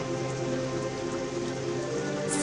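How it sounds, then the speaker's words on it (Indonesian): Heavy rain pours down steadily, a dense continuous hiss of drops hitting surfaces with no pauses, loud and close throughout. "Hujan pun turun dengan lebatnya."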